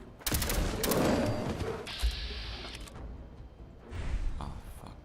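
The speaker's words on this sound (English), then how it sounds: "Who shot there?" Gunshots in Fallout 4, an opening burst of several sharp shots followed by scattered clanks and mechanical rattles, with another shorter flurry near the end.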